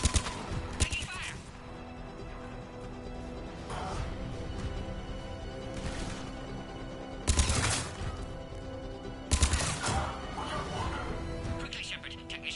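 Gunfire in the Mass Effect 3 combat game, several sharp loud bursts of shots spaced apart over a steady battle rumble, with voices talking between and under the shooting.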